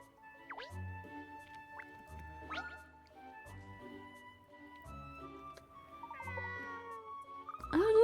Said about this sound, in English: Oh, look, this little cat has picked up a puzzle from somewhere.